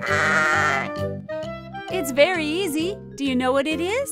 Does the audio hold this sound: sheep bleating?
yes